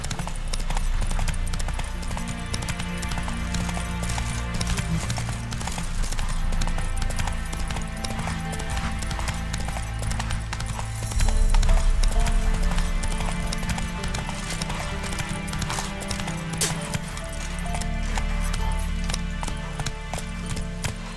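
Roach the horse gallops in The Witcher 3: Wild Hunt, a steady rapid clip-clop of hooves running continuously and loudly under layered game music.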